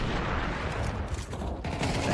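Dense, continuous gunfire from Counter-Strike 2 in a pro match at BLAST Open Rotterdam 2026, with overlapping bursts and shots stacking into a loud, busy fusillade throughout.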